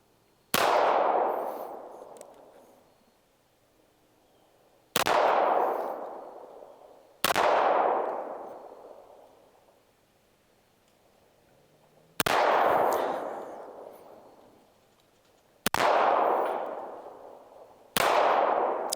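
An FN High Power pistol fires six sharp shots at uneven intervals, each a loud crack trailing off in a long echoing decay, heard near with no talking.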